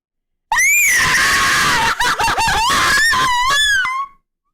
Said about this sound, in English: scream like you're getting murdered